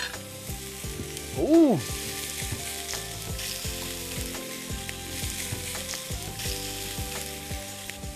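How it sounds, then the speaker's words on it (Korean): Meat sizzles steadily on a hot grill, a continuous crackling fry close up, and a voice briefly exclaims in the middle. "저 끓는 소리 저 굽는 소리."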